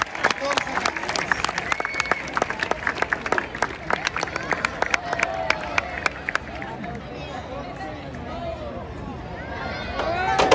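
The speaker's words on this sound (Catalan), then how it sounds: "Un fort aplaudiment." Crowd applause at a festa major crate-stacking contest in Spain, dense bursts of clapping and cheering sustained throughout, loud and close, with a few sharp claps standing out near the end.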